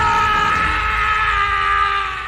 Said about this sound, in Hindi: झाड़ियों में उस आदमी की चीख गूंज गई